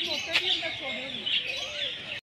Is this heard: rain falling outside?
no